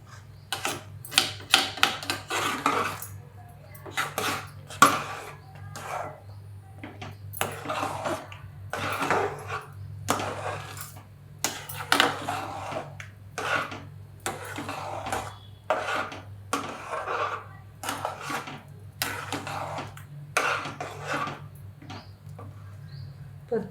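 Puran poli filling stirred in a pan over low gas, repeated scraping and rubbing strokes of a spoon against the pan in an irregular rhythm, close and moderately loud over a low steady hum.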